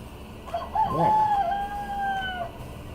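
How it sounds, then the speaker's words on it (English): A rooster crows once in a clear, drawn-out cock-a-doodle-doo, moderately close and standing out over a low background hum, with no talking. "damn chickens."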